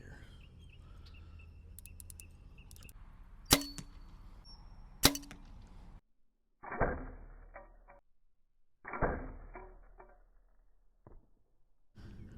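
Arrows from a Victory RIP Xtreme striking a target outdoors, two sharp loud impact cracks a second or so apart over quiet background with faint birdsong, followed by softer thuds and clatter.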